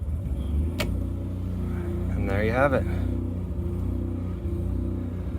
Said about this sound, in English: Just gonna show the generator